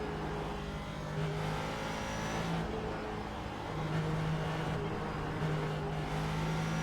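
Ford GT race car engine in the iRacing sim at Le Mans, a sustained loud drone with shifting pitch as it revs and changes gear, running continuously throughout.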